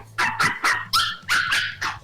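Chihuahuas bark in a quick run of about seven sharp, high yips, close and loud, with a low hum underneath.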